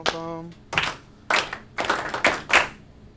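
A teacher claps a rhythm in a classroom to quiet the class: a short burst of sharp hand claps in an uneven pattern, close and crisp, opening on a brief sung tone.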